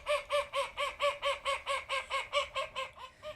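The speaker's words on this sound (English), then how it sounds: "And this one is the urban quacking." Ducks in an urban London setting quack raucously and fast: about a dozen loud, evenly spaced calls in a steady rapid rhythm, close by, with no talk.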